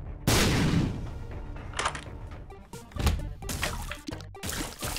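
A bomb goes off in The Binding of Isaac: one sudden, loud, deep blast near the start, followed by a run of smaller game pops and clatters.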